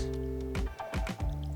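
Squeezed ginger-garlic pulp draining water through a kitchen strainer, soft wet squishes and drips against a steady background hum, close and fairly quiet, with no talk.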